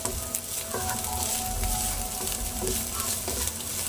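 Vegetable kebab mixture frying in a pan as green chili goes in, with a steady sizzle and occasional stirring scrapes and clinks, no voices.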